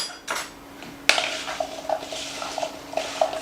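Cut apples and cinnamon are stirred in a bowl, a sharp knock followed by repeated light scraping and clinking of a utensil against the dish, close and alone.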